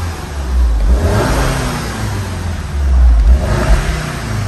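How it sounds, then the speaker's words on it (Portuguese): A turbocharged Volkswagen Fusca TSI Stage 2 engine revs up twice, a rising roar with a faint turbo whine, fairly loud and close, with no talking. "Dá para ouvir a turbina"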